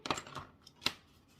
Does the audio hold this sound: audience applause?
no